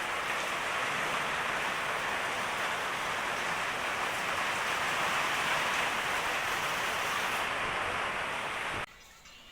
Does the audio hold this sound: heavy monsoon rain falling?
yes